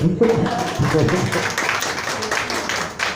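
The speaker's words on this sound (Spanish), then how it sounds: "el aplauso es para Amanda Santa" An audience at a literary conversation applauds with dense, continuous clapping that swells and holds, while voices talk over it.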